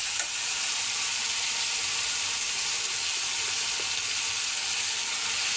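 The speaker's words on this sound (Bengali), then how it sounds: "ভালো করে মশলাটা কষিয়ে নিব।" Raw ground spice paste with green chilli fries in a pan for mutton curry, a constant close, loud sizzle with faint stirring scrapes and no talking.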